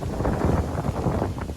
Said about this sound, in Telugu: మా విలేజ్లో చల్లగా గాలి అయితే వస్తుంది